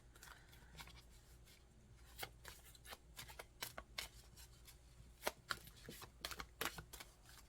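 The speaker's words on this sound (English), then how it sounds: "give it a good shuffle." Oracle tarot cards being shuffled by hand, a quiet run of crisp riffles and slaps that come faster and louder toward the end, with no talk.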